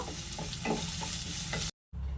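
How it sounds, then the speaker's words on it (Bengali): Onion, garlic, ginger, green chili, spices and mint leaves frying for a restaurant-style masala paneer, a close steady sizzle with spatula stirring scrapes, cutting off abruptly into brief silence before resuming. "সবশেষে দিয়ে দিচ্ছি কিছুটা পুদিনা পাতা। সবগুলো মশলাকে ভালোভাবে ভেজে নেব।"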